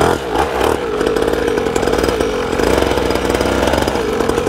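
A small, cheap two-stroke dirt bike engine runs close by, a loud, steady buzzing drone with slight revving fluctuations, sounding much like a weed trimmer or chainsaw.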